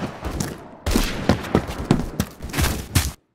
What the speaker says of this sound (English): the guy who's shooting at me